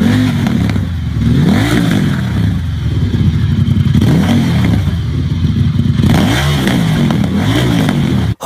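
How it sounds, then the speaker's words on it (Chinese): A Ducati Diavel V-twin motorcycle engine revving loudly up close, repeated throttle blips rising and falling in pitch over a lumpy, throbbing idle, cutting off abruptly at the end. "请大家听一下这一代发动机声浪"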